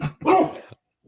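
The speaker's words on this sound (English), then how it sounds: "my dog is back here barking" A dog gives one or two sharp, loud barks close by, indoors behind someone who is talking, then falls quiet.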